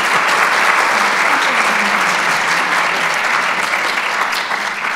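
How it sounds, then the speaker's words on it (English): At an event honoring panelists, a loud, dense round of applause rises from a sizable audience and carries steadily before easing slightly at the end. "Maybe a quick round of applause."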